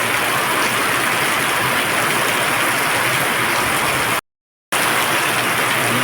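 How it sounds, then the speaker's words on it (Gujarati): Loud, dense rain pouring steadily with a constant hissing roar, broken by a brief moment of total silence before resuming. "જોરદાર મસ્ત વરસાદ આવી રહ્યો છે"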